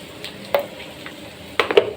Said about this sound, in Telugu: ఈ ఆలుగడ్డ మంచిగా వేగాలండి